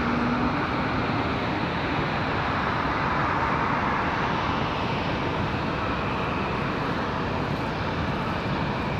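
Airliner taking off from runway 23 right at Raleigh-Durham International, a steady broadband jet engine roar filling the whole stretch, loud and sustained without letup.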